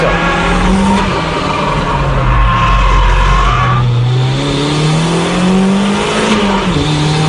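A drift car corners with long, sustained tire squeal and a droning engine, the screech sliding in pitch as it holds the slide for several seconds, loud and close throughout.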